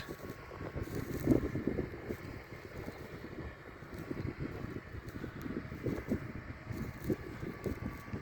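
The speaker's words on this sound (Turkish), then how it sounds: "bugün biraz rüzgar esiyor" Gusty wind buffets and rumbles across the microphone beside a Claas Arion 450 tractor pulling a six-furrow plough, rising and falling in uneven waves over a low steady drone.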